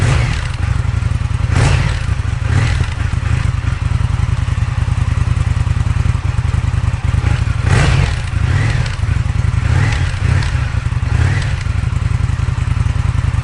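An Indian FTR 1200 motorcycle with an Akrapovic aftermarket exhaust, idling cold with a loud, deep, steady rumble broken by several short revs, close by.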